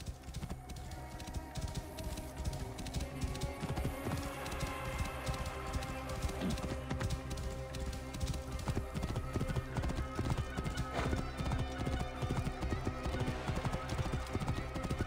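In a video game set near Giza, a horse's hooves clip-clop in a steady rhythmic stream, joined by a whinny, with faint ambient game sounds beneath.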